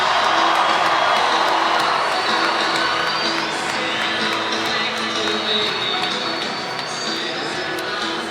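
An ice hockey crowd at a Challenge Cup Final between the Nottingham Panthers and Belfast Giants cheers loudly after a fight, a dense roar of whoops that eases off slightly toward the end, with commentators talking over it.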